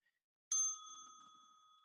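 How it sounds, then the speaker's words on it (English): A small bell is struck once, giving a bright, clear ring that starts sharply and then lingers with a long, fading tone, close and otherwise alone. "Oh, you got a bell?"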